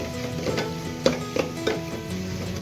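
Pav bhaji vegetables, egg and masala roasting in a pan, a low sizzle under a few sharp spatula scrapes and taps against the metal, close and short.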